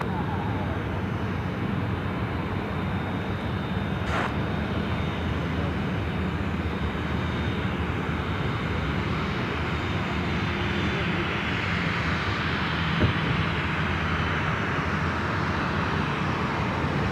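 An airliner lands on runway 34 left at Sydney Airport, a broad steady engine roar heard from nearby with faint voices and radio chatter under it.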